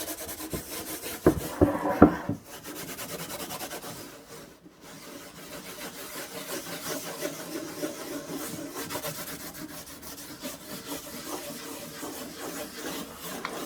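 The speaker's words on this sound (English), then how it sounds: "I flip my sponge over to the green scrubby side. And I begin to kind of polish it." Green scrubby side of a sponge rubbing and polishing plaster-look paint, a steady rasping scrub close up with a brief louder patch early on, then continuous rhythmic rubbing.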